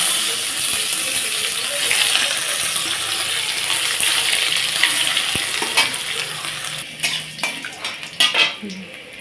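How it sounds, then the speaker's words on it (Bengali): Crushed ginger hits hot oil in a tempering for pea dal, a loud, continuous sizzle close by that thins out toward the end, where brief metallic clinks of a utensil against the pan break through. "দিয়ে দিচ্ছি থেতো করা আদা"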